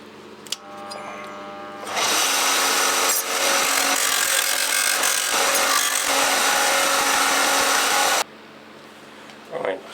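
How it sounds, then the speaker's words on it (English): Sanding a cut brass plate to fit makes a steady, loud, close grinding hiss that starts abruptly, runs for about six seconds and then cuts off. "Right, just going to sand it to fit."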